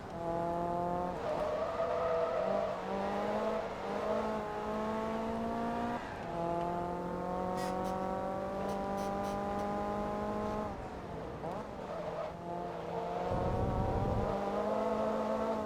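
Race cars in the video game Forza Motorsport 2 drone along the track, engines holding steady pitched tones that shift and climb through gear changes, with another car's note rising briefly near the end.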